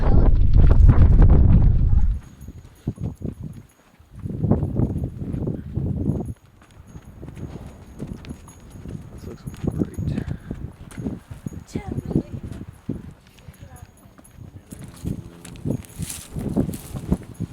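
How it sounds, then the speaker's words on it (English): Horse hooves clop at a steady walking pace over a breezy background in Texas, starting with a loud rumble of wind, with people talking at times. "Is Coyote good behind this horse?"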